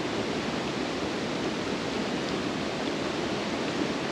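Steady rushing of a rainforest river flowing on Hawaii's Big Island at Hakalau, a constant broadband wash with no pauses, moderately loud and close.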